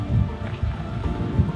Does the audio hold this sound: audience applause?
no